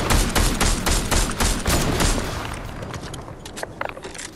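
Rapid blaster gunfire from a Star Wars video game crackles in dense, loud bursts for about two seconds, then thins into scattered, fading shots with a few sharp late pops.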